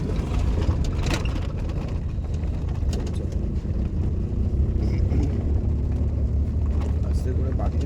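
Manual car engine droning steadily from inside the cabin during a slow left turn, with wind rumble and a person talking over it.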